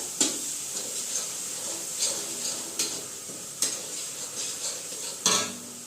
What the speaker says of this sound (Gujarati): હવે હળદર ધાણા જીરું સરસ રીતના બધું મિક્સ કરી દઈશું